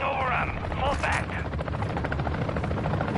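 A helicopter thrums overhead in the video game Warzone, a steady rotor beat that stays loud and close throughout, with a voice speaking briefly over it near the start.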